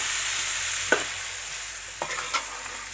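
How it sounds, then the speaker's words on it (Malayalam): Mango pieces are stirred into a sizzling pickle mixture in a pan, with a steady frying hiss and a few scraping strokes of the spoon. "അടുത്തതായിട്ട് വേണ്ടത് നമ്മൾ തയ്യാറാക്കി വെച്ച മാങ്ങ, അതിലോട്ട് ഇട്ട് കൊടുത്തു."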